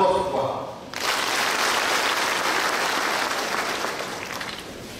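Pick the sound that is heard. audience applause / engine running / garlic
audience applause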